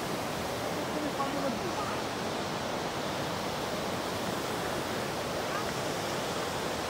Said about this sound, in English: we're at one of the most beautiful waterfalls in the entire Europe.